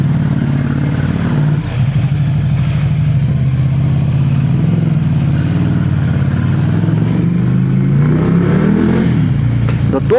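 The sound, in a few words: Ducati Monster 797 motorcycle engine revving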